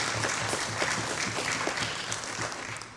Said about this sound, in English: Let's give our colleagues a round of applause.